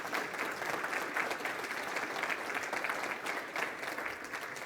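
During a State of the City address in Livonia, Michigan, audience applause sounds as a continuous, even patter of many hands clapping, fairly soft and steady for the whole stretch.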